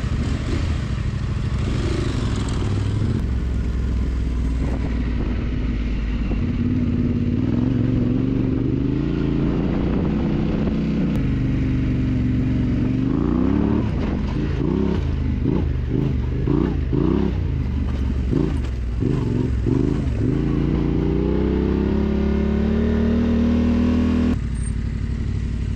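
A dirt motorcycle rides a muddy mountain trail in New Mexico, its engine loud and close throughout, droning steadily with rising and falling revs as the rider works through the terrain.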